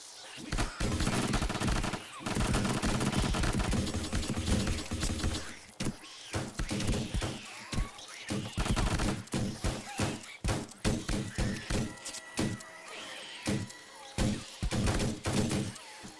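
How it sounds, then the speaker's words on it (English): Rapid bursts of gunfire from a weapon in the 7 Days to Die survival game, dense and sustained with brief pauses between volleys, loud and close, with occasional impact crashes mixed in. "Really going through my bullets using this weapon."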